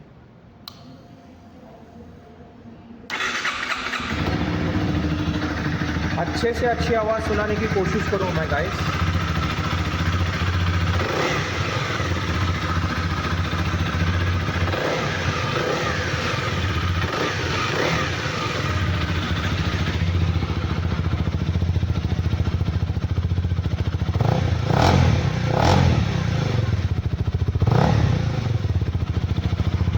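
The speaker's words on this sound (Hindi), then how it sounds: "Let's fire the engine." A 2025 Honda CB300R motorcycle engine cranks and fires up after a few seconds of quiet, then settles into a loud, steady idle with occasional sharp throttle blips, recorded close to the bike's underbelly exhaust while someone talks briefly over it.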